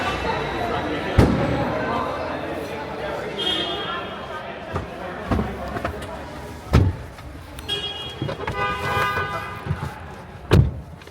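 Car horns honk in short and longer blasts amid street traffic in Delhi, India, with thumps and people talking nearby.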